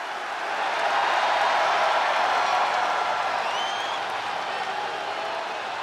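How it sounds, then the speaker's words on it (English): A WWE Raw wrestling arena crowd gives a loud, sustained ovation of applause and cheering that fills the whole stretch without a break. "Listen to this ovation. The WWE Universe loves cheering on the EST."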